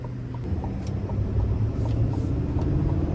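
A 2025 GMC Sierra 2500HD Denali heavy-duty pickup with a turbo diesel and Allison transmission drives along, giving a steady low rumble of engine and road noise heard from inside the cab.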